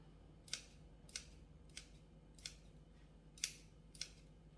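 Rice noodles being cut for a Thai rice noodle salad: six crisp, evenly spaced snips, close and fairly quiet against a low background hum.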